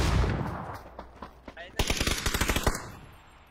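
Gunfire in the PUBG video game: a rapid burst of automatic shots near the end, preceded by a few scattered single cracks, loud and close over a low rumble.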